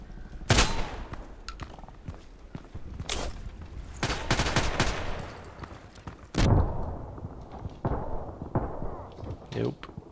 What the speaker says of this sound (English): What a game! Everybody with a shotgun!